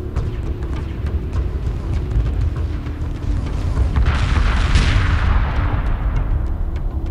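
Sustained weapon fire and dull booming impacts roll over a heavy low rumble as a mothership comes under light attack in the space strategy game Homeworld 2 Remastered, swelling into a brighter crackling burst midway before settling back.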